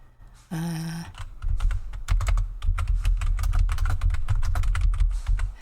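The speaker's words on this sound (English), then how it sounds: "I know that it's noisy in my microphone when I'm typing" Fast, uneven clicking of computer keys being typed on, close to the microphone, running steadily with a short hum near the start and no speech.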